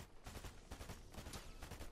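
Automatic gunfire sprayed at enemies in the video game Fortnite, a fast, dense clatter of rapid shots in quick bursts, loud and close, with no voices.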